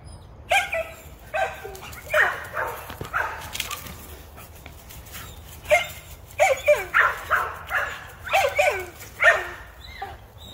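American pit bull terriers barking in repeated short bursts and clusters, with yips mixed in, fairly close and loud over a low background hum.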